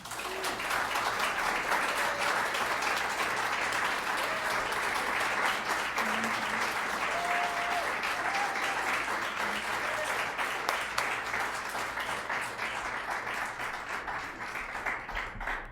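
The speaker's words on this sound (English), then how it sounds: "if we could give them another round of applause" Audience applause after a reading at a literary event, steady and sustained clapping from a crowd for the whole stretch, fairly full and even, with no voices on top.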